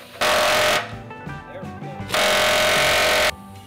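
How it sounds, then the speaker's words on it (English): An air chisel hammers bushings out of a Lexus IS300 rear subframe in two loud bursts of rapid pneumatic pounding, separated by a short pause with quieter shop noise. "So let's see if the air chisel method will work."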